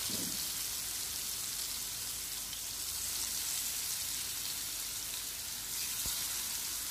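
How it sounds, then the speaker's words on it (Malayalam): Fish, a thick-fleshed hammour, shallow-fries in coconut oil in a pan, giving a faint, steady, rain-like sizzle that crackles evenly throughout. "ഇനി അതേ പാനിൽ തന്നെ കുറച്ച് വെളിച്ചെണ്ണ ഒഴിച്ച് ഫിഷ് ഒന്ന് ഫ്രൈ ചെയ്യാം"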